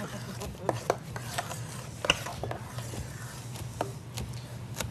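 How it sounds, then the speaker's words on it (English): Sage chopped slowly with a sharp kitchen knife during Thanksgiving cooking, giving a series of soft, irregular cuts and rubbing strokes over a steady low background hum, with no talk. "you start chopping slow."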